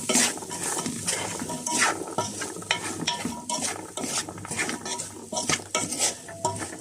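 Fried rice seasoned with aromat is stirred in a pan, a spoon scraping and clinking in steady repeated strokes over a continuous close sizzle.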